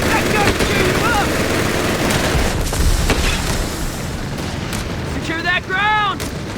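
In the Company of Heroes 3 video game, an MG-42 machine gun fires in a dense battle with continuous rattling bursts. Soldiers' voices shout over the gunfire near the end.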